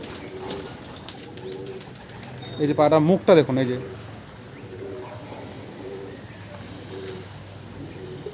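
A Kaldum pigeon gives a short burst of throaty cooing at close range, a few rolling notes lasting about a second, while someone talks before and after it.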